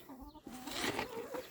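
Chickens clucking close by, a few short throaty clucks and murmurs rising into a brief louder squawk.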